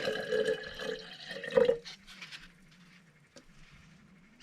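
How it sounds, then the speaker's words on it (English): Water holding crab apple seeds is dumped back into a container, a splashing pour lasting under two seconds, then settling into faint drips and trickles. "I'm going to dump the water back."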